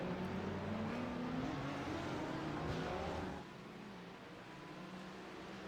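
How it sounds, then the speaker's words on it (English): A pack of GT3 race cars exits the final corner at Long Beach in a sim racing game, engines droning together at a steady, fairly faint level before dropping off partway through. "That is a lot of cars coming out of the final corner."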